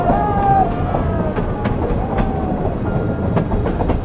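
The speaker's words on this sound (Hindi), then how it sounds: "अपना बैंकर लोकोमोटिव हमसे अलग होता है।" Metre gauge train with a banker locomotive running past, loud rumbling wheels with rhythmic clicks and faint flange squeals, with scattered voices in the background.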